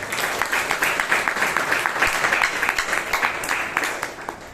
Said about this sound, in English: please give Joe a big round of applause